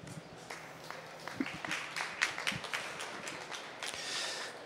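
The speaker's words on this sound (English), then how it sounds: "Let's give this cow a nice round of applause." Scattered audience applause at a dairy cow championship show in Wisconsin, a broad wash of many hands clapping at moderate distance, steady with a few sharper claps, no talk over it.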